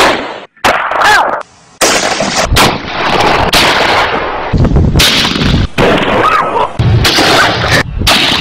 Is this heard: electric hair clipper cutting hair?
no